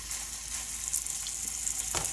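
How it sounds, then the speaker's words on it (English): Seasoned pork chops sizzle steadily in a frying pan, with a continuous close crackle and a few louder pops, and no talking. "So we are going to go ahead and put them in the pan."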